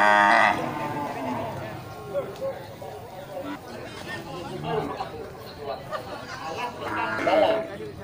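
Bali Cross cattle moo at a busy pre-Eid al-Adha livestock market, several loud drawn-out calls rising over a steady murmur of crowd chatter and voices.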